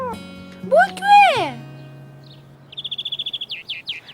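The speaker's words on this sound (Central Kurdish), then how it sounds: "باڵندە" Cartoon bird chirps from a children's animated series, a rapid run of about a dozen short, bright tweets followed by a few rising chirps, heard alone after an earlier sweeping whistle-like cartoon sound.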